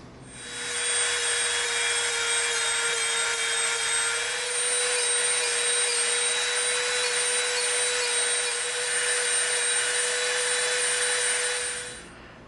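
A steady high-pitched whine of a Dremel rotary tool grinding EVA foam, running continuously for about eleven seconds with no talking.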